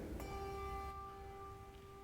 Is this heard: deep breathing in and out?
no